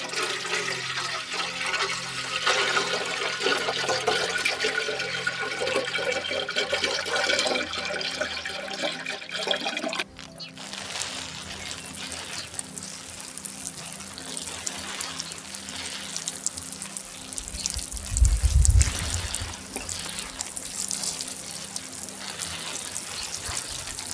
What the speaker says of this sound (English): I make sure to water them well right afterwards and also in the days ahead